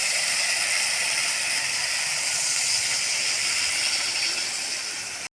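Water poured into a pan of frying spice masala for a prawn curry with fritters, giving a loud, steady steam-like hiss and sizzle that holds for several seconds, then cuts off abruptly.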